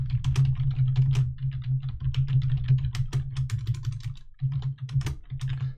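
Rapid typing on a computer keyboard as a folder name is entered, a steady stream of close clicky keystrokes over a constant low electrical hum, with a brief pause near the end.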